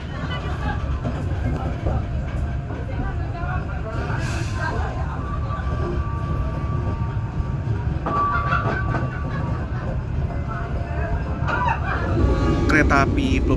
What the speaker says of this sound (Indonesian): Kereta api Perbowangi baru saja berangkat dari stasiun Temuguru